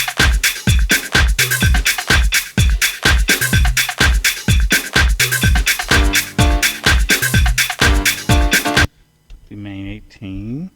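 Progressive house beat programmed on an Akai MPC One, with a steady four-on-the-floor kick, crisp hi-hats and a repeating synth line that drives on for about nine seconds, then stops abruptly and a voice talks briefly.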